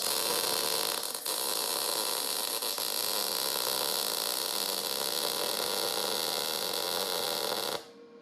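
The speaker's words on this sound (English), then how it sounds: "for those situations when you need a plug weld" Plug welding joins two pieces of metal with a steady, loud, sustained crackling hiss and buzz, near and unbroken for nearly eight seconds before cutting off, with no talk.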